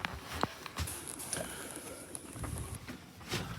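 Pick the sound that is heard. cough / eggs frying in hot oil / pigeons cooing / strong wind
pigeons cooing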